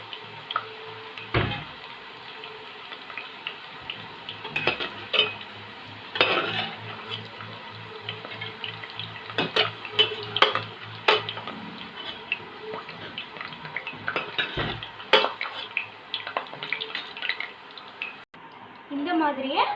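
French fries frying in hot oil, a continuous bubbling sizzle with occasional crackles and stirring clinks, close and steady, with a voice talking over it.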